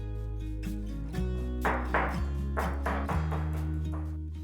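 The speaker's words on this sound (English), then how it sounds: "I'm going to pound 5 cloves of garlic and a few pieces of ginger." Garlic cloves and ginger are pounded with a series of dull, rhythmic thuds, close by, over steady background music.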